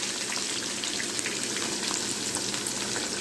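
Chopped onion dropped into hot oil left from frying chicken for a chicken roast sizzles loudly and evenly, a dense crackling hiss that continues unbroken with no speech.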